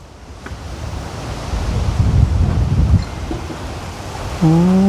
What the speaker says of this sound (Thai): ลมมาดีพี่น้องเลย